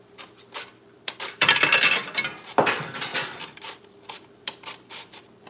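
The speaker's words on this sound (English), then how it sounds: "I'm just going to slice these onions up in here." Onions being sliced on a sharp mandoline slicer: rhythmic rasping swipes and clicks, with a couple of longer, louder slicing strokes in the middle and lighter clatter around them, close and alone without speech.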